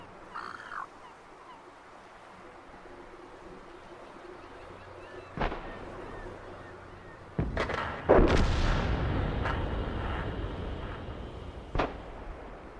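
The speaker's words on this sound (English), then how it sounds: "so I think this is the heavy artillery." Heavy artillery fire in the tank battle video game World of Tanks: sharp distant-sounding shots and one big booming blast with a rumbling tail, set against steady low battlefield ambience.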